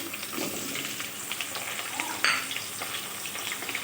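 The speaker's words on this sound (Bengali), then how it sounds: "এবার ওই তেলে আমি ফোড়নের জন্য দিয়ে দিচ্ছি জিরা। এবার দিয়ে দেব টুকরো করে রাখা আলুগুলো," Cut potato pieces fry in hot oil with cumin seeds, giving a soft, steady sizzle with scattered crackles and one sharper spatter partway through.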